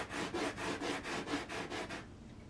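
Sandpaper rubs a small wooden model ship piece in quick, even back-and-forth strokes, about eight close, scratchy passes, before the sound stops near the end.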